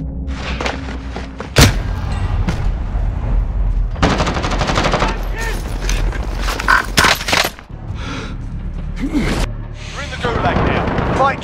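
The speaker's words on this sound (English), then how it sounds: "I'm taking fire! Taking fire! Hard contact here." Rapid machine-gun fire and heavy shots from Call of Duty: Modern Warfare in Plunder mode ring out loud and close in repeated bursts, with booms and thuds mixed in and voices talking throughout.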